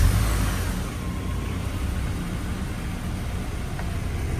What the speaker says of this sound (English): We're gonna play the sound of the new starter for you because they always sound so good.